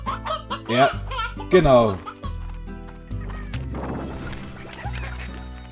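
Chickens in the video game Slime Rancher cluck and squawk in short bursts early on, followed by layered synthetic game music and effects, with someone speaking briefly.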